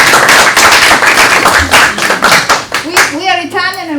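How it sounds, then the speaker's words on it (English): Lecture audience applauding with brisk, dense clapping for about three seconds, then talk and a laugh-like voice as the applause fades. "You can also applaud."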